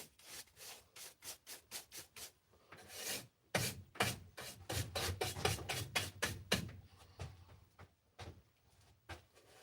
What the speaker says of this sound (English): Man, I love my little rigid pinch sander.